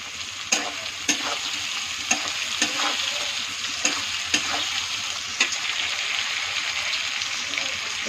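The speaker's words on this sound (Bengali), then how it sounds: "বিনসটা একটু ভাজা ভাজা হয়ে গেছে" Green beans and capsicum stir-frying in a hot pan for vegetable pulao, a steady close sizzle broken by repeated sharp clicks of a spatula scraping and tossing the vegetables at irregular intervals.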